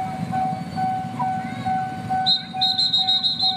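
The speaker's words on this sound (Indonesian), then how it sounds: "Oh, kereta 2, kereta 2," Train passing a packed rail crossing, a steady low rumble with thin high tones that brighten into a sharp whistle-like squeal near the end.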